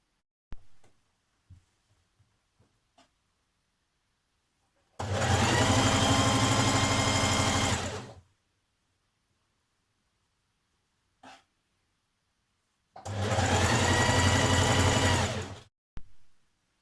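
A domestic sewing machine stitches seams on a Simplicity 8874 jersey dress in two loud bursts of about three seconds each, separated by quiet pauses with small handling clicks.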